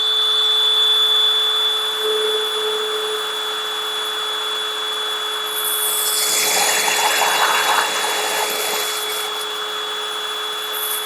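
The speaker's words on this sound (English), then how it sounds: "I'm going to drill my hole." A power drill with a multitool drill guide boring a hole, the rider leaning on it with chest pressure; a steady whirring motor, with a louder, rougher grinding stretch midway as material cuts away, and no talk.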